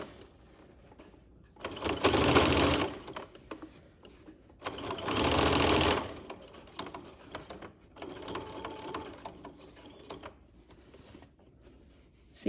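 A sewing machine stitches a neck facing in three separate runs, two loud steady whirring bursts followed by a softer, longer one, with quiet pauses between them.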